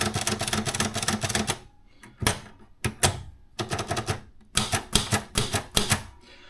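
A Maritsa 30 Lux manual typewriter clatters close up, with rapid bursts of key strikes and typebar clacks broken by short pauses and a few isolated snaps, all without speech.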